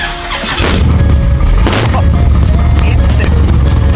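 A Pontiac Firebird big-block V8 cranks on a sodium-ion battery and catches instantly, roaring loudly to life and settling into a deep, rumbling idle.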